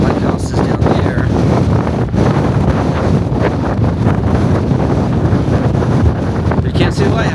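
Strong wind buffets the microphone on a foggy coastal cliff above the ocean near the lighthouse from the 1980 film The Fog, a loud, continuous roaring rush with gusty swells throughout.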